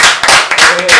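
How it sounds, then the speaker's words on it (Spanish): Quick, loud hand clapping in a talk-show studio, a short burst of close applause with voices overlapping it. "Bueno, hermano, un aplauso."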